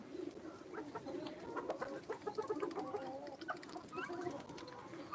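Chickens cluck and chirp in a busy, continuous chorus while being fed leftover cooked rice, with ducks and turkeys nearby in a backyard coop, the calls overlapping at close range.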